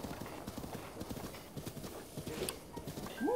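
Horse hooves clip-clop steadily at a walking pace in The Legend of Zelda: Breath of the Wild, a continuous rhythmic patter of game sound effects with a brief whinny near the end.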